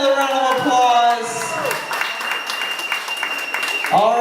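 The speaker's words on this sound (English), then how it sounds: "Let's give him another round of applause." Guests at a wedding reception in a Texas hall applaud, a steady wash of clapping running throughout beneath music and a voice speaking over it.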